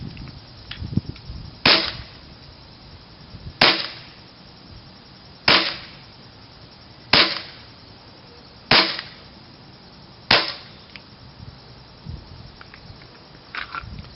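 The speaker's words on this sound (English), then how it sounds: "So now let's see how it shoots with green gas." Tokyo Marui FN 5-7 airsoft pistol firing on green gas: six sharp, loud cracks spaced about two seconds apart, each with a short tail, over a quiet background.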